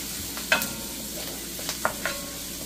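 Garlic fried in a little oil for chicken adobo is stirred, with a soft steady sizzle and a few sharp scraping clinks of the utensil against the pan, close and clear with no talking.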